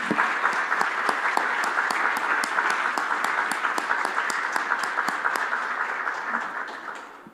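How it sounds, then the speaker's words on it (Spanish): A church congregation applauding, a continuous even roll of many hands clapping at close-to-medium distance for several seconds before tapering off at the end. "démosle un fuerte aplauso al Señor"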